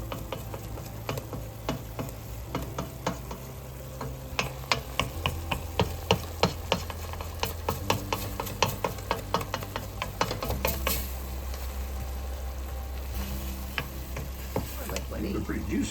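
Mushrooms cooking wet in a pan for bibimbap, a soft steady sizzle under repeated clicking and scraping of a utensil stirring against the pan, rhythmic taps that thicken midway and ease off toward the end.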